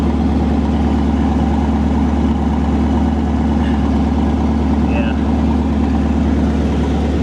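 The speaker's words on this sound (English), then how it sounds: "Damn old engine sounds perfect, man." The old engine of a 1983 Mercury Cougar idles steadily nearby, a constant low rumble that holds even throughout, with a voice faintly audible over it.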